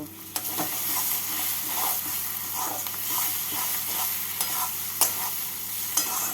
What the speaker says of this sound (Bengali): চিনি দিয়ে ভালো করে মশলার সাথে মিশিয়ে নেব